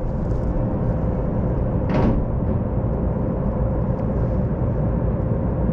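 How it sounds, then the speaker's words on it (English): Sliding doors closing on a Las Vegas monorail train, a brief soft whoosh and thud near the two-second mark over a steady loud hum of the carriage interior. "doors are closing. Please stand clear."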